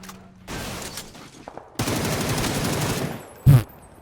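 Bursts of automatic gunfire in PUBG on console, two long rattling volleys separated by a short pause, followed by a single heavy loud shot near the end.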